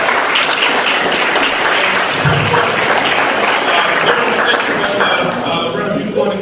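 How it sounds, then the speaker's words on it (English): Audience at a Dayton NAACP briefing applauding the mayor, a dense sustained clapping that fills the room, with voices mixed in beneath it. "let's give a round of applause to the mayor for a second."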